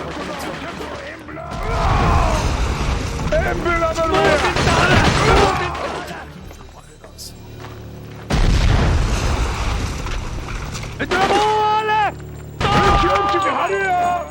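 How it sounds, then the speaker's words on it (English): Submachine gun fire in the video game Cold Winter: loud bursts of rapid shots and booms in several clusters separated by quieter gaps, with someone talking over the action. "This is just an SMG."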